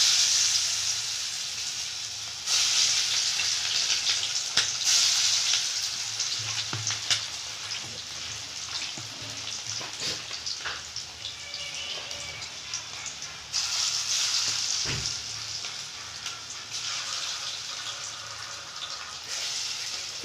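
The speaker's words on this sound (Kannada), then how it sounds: "ಈಗ ಇಲ್ಲಿ ಎಣ್ಣೆ ಕಾದಿದೆ. ನಾನು ಇದನ್ನು ಒಂದೊಂದನ್ನೇ ಬಿಟ್ಕೊಳ್ತೀನಿ ಎಣ್ಣೆಯಲ್ಲಿ." Green chicken kebab pieces dropped one by one into hot oil, crackling and sizzling steadily with bursts of louder frying as new pieces go in.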